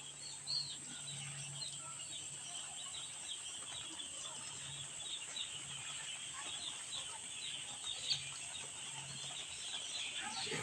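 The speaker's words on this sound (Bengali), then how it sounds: "আমাদের পোল্ট্রি ফার্মে আজ মুরগির বয়স মাত্র 2 দিন" Many two-day-old chicks on a poultry farm keep up a faint, continuous chorus of high peeping and cheeping, steady throughout with no single call standing out.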